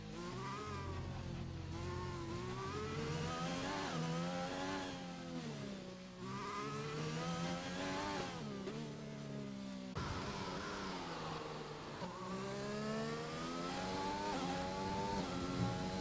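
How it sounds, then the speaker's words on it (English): A Williams racing car in a league racing video game on a flying lap: a high, continuous engine whine climbs and drops repeatedly as gears shift, loud and steady with no talking. "We're on board with Such J25 for his second flying lap in the Williams"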